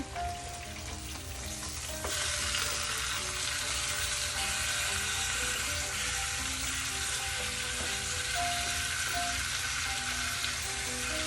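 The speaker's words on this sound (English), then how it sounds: "now I'm going to turn these pork chops around" Pork chops frying in a pan, a steady close sizzle that grows louder and denser after a couple of seconds as the chops are turned, continuing without talk.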